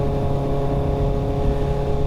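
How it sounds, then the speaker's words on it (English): Inline-four motorcycle engine pulling under throttle, a steady loud droning hum with a slightly rising tone, close and continuous, with no talking. "it is an inline 4, so you'll get that little bump as soon as you actually get on the throttle and everything"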